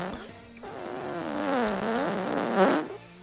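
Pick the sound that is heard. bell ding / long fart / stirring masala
long fart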